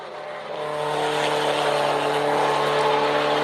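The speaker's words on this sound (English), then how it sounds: "Here comes the next car by the start-finish line" A race car speeds past the start-finish line at Watkins Glen during a vintage group race, its engine rising to a loud, sustained roar that holds steady near the microphone.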